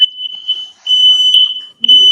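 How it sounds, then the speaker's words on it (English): A smoke alarm beeps in long, shrill, high-pitched tones, two sustained blasts with short gaps, loud and close. "You set off my smoke alarm."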